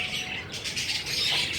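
Caged pigeons and parrots squawk and chirp in a short burst of bird calls, with fluttering wings in between, fairly close and without talking.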